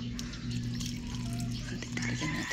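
Water runs steadily into a container with a trickling, splashing sound, accompanied by a low steady hum and a few faint background noises.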